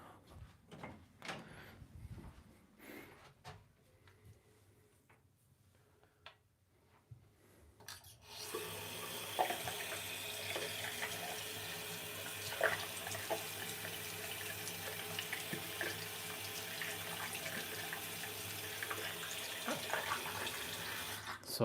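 A bathroom tap runs steadily at a bathroom sink while something is rinsed during beard trimming. The water starts partway through with a sudden rise and keeps up a constant close hiss. Faint knocks and rustles come before it starts.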